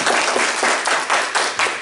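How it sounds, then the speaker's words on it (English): A church congregation claps hands together in a quick, steady rhythm, loud and close, for a couple of seconds. "Let's give the Lord a hand clap"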